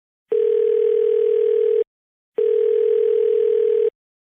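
A telephone ringback tone sounds as an outgoing call is placed, with two long steady electronic buzzes, each lasting about one and a half seconds and separated by a short silence. It is loud and clean, with nothing else audible.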